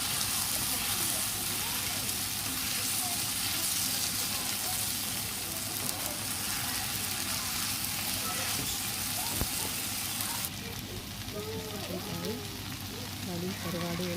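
Dried anchovies sauté in a pan, giving a soft, continuous sizzle under a faint background hum. A brief tonal interruption comes near the end.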